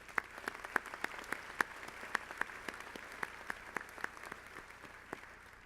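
A graduation audience at a medical school ceremony gives a big round of applause to faculty mentors: sustained crowd clapping with distinct, sharp individual claps popping out above the dense, steady patter throughout.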